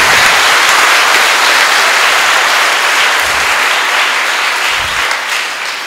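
A church congregation at St Joseph Church, Erucancherry, applauds loudly and steadily for several seconds, the clapping fading slightly toward the end.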